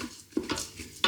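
Garlic bread being stirred in a Ninja Foodi pot: a few quiet scraping and clinking strokes with faint sizzling, brief and close.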